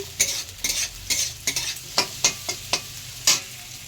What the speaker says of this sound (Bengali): গ্রেট করে রেখেছিলাম আদাটাও দিয়ে দেবো, আদাটা দিয়ে একটুখানি